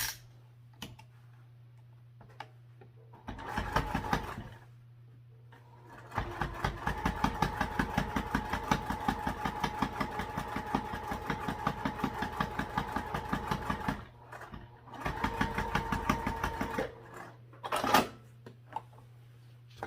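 A sewing machine basts a flap onto a wallet, its needle clattering in a rapid, steady rhythm through two long runs separated by short pauses. A low steady hum sits underneath throughout.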